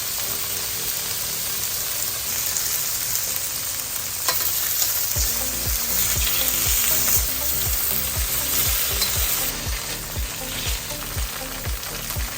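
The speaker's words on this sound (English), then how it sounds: "Pan frying the tofu like this not only adds more texture and flavor to the tofu" Steady sizzling of tofu frying in a hot pan, joined partway by a series of rhythmic scraping knocks as it is stirred or flipped.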